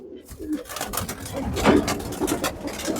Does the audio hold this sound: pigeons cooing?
yes